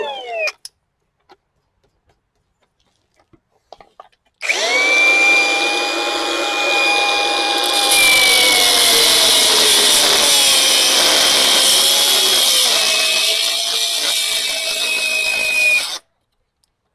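Battery-powered angle grinder cutting metal during an FE3 Turbo engine swap into a Mazda B2200, a loud sustained high-pitched whine running steadily for about twelve seconds before cutting off abruptly, with no talk over it.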